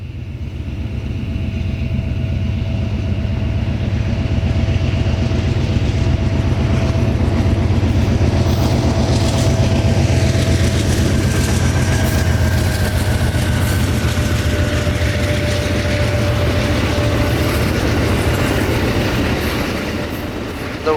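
Amtrak 91, the southbound Silver Star, rumbles past loud and close for a long stretch between Tampa and Lakeland, Florida, its wheels clattering steadily with faint squeals, then slowly fades.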